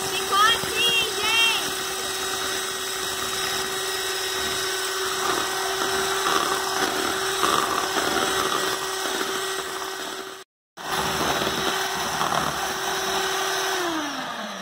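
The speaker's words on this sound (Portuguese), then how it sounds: "Vamos colocar aqui e vamos bater com a batedeira até ficar em ponto de neve bem firme." A steady electric mixer whir runs almost throughout as egg whites are beaten to stiff peaks, pausing briefly near the end, with a voice talking over it.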